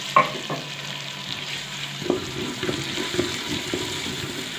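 Tomatoes added to onion, ginger and garlic in a pan give a soft, steady sizzle close by, with a few clatters of stirring and scraping and no talk.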